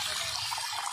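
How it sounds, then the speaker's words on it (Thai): Water runs from a tap in a steady, bright rushing stream, close and continuous, with no talk over it. "น้ำไหลป่ะ"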